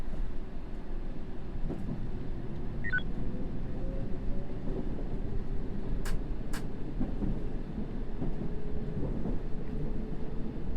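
Video game rain and thunder outside a London Underground train: steady rain and low rumbling fill the scene continuously, with a dull roll of thunder in the background and a couple of brief sharp clicks midway.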